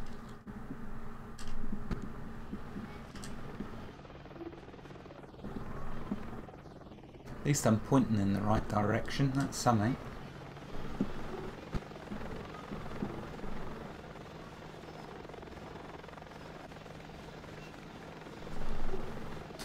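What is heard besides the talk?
plane flying in Planet Explorers video game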